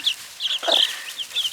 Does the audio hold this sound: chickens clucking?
yes